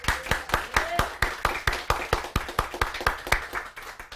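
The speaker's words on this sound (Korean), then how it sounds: "우리 한번 박수 한번 쳐봐" Rhythmic unison clapping from a church congregation during a Sunday worship service, steady beats roughly every quarter second with a faint voice briefly audible between claps.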